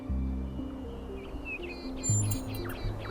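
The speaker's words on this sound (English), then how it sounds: "Do you hear the birds chirping outside the door?" Birds chirping outside a door in The Talos Principle 2, a few bright high tweets and calls over a low droning ambience, moderately clear and brief.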